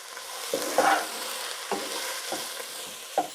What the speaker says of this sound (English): Now, I'll give this a nice stir.